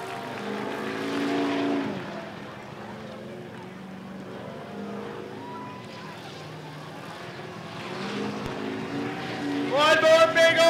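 A race car doing a tire burnout at Rockford Speedway, with a sustained droning engine roar that rises toward the end as revs climb, heard from a distance with crowd ambience.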